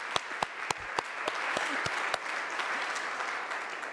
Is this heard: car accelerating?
no